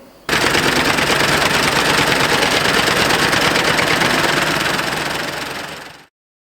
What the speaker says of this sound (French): c'est un tracteur, c'est un monstre d'acier, c'est vraiment un gros moteur, tout est surdimensionné